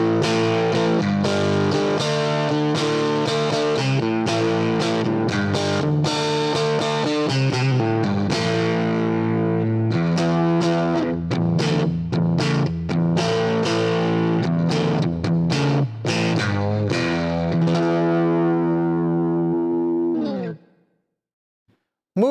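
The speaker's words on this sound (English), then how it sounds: "To really get some grind out of this amp, you gotta turn up past 12 o'clock so you can really hear how this amp gets its natural overdrive." A humbucker-equipped electric guitar plays chords through a Fender '57 Champ Reissue tube amp turned up past halfway into natural overdrive, giving a gritty, full sound that rings continuously for about twenty seconds before cutting off.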